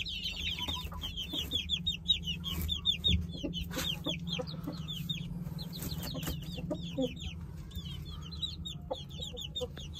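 Hens cluck in a farmyard, a busy overlapping chorus of short rhythmic clucks and chirpy calls close by, with occasional rustling and a low background hum.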